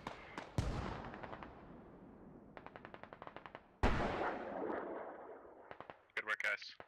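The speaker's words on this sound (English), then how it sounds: "I don't know why they got their mortars shooting in the wrong direction" Gunfire in a military video game, where mortars are firing, comes as sharp bursts of rapid automatic shots and two heavy booming blasts with long decaying rumbles, loud and mid-distance, with brief clattering at the end.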